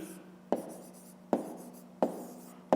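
Pen writing a fraction equation by hand on paper: four crisp, evenly spaced taps with short scratchy strokes trailing after each, close and clear.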